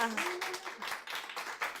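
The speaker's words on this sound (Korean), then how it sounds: "우리 이준용 쌤님께 한 번 더 박수 부탁드릴게요" An audience at a Korean talk event applauds, a dense burst of clapping with a rhythmic pulse running steadily through the short stretch, close and fairly quiet.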